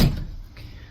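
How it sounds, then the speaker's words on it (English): A door is eased shut with care, giving one soft muffled thud at the start followed by quiet outdoor ambience on a breezy sunny day. "Trying to not bang the door."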